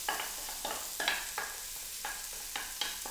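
Onions stirred and sizzling in melted butter in a pot on a stove, with a steady frying hiss and repeated short scraping stirs, fairly close and alone.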